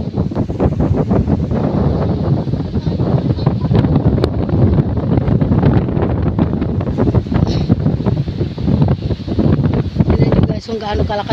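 Strong wind buffets the microphone on a hilltop at Rodriguez Nature Park, with a dense, continuous roar in gusty surges. A voice is faintly audible beneath the wind.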